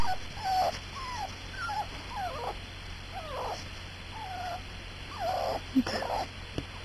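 Six-week-old puppies playing, with repeated soft whimpers, yips and squeaks scattered throughout, fairly faint and close over a steady background hiss, without clear speech.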